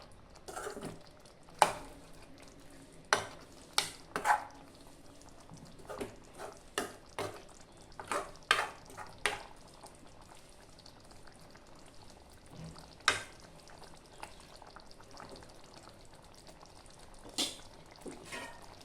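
Chicken curry cooking down in a pan, a low bubbling sizzle under repeated scraping strokes of a spoon stirring, irregular knocks spread across the stretch, close by with no talk.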